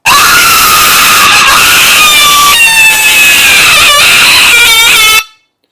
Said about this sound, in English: was screaming as loudly as she possibly could from the beginning to the end